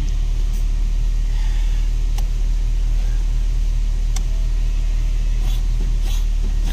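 A Ford EcoSport engine idles after a control module repair, a loud, steady low rumble with a few faint clicks over it.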